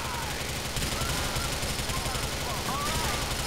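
Gunfire in Grand Theft Auto IV rattles as dense, continuous shooting under a constant loud background, with a voice speaking over it.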